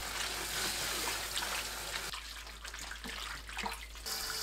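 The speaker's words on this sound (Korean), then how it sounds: "쑥을 물에 헹궈내세요." Mugwort leaves being rinsed in water, with steady running tap and splashing sounds filling the clip, shifting to lighter trickles and sloshes midway.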